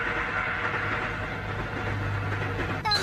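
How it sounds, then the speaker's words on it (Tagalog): Approaching train, a steady low rumble and rolling clatter filling the clip, with a brief sharp rise at the very end. "Kung tumawid ka, malapit na ang tren."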